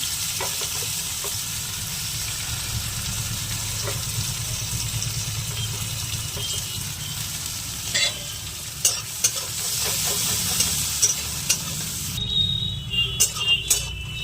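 Onion and green chilli frying in a pan, a loud steady sizzle and hiss throughout, joined near the end by a series of scraping stirs and taps from a spatula.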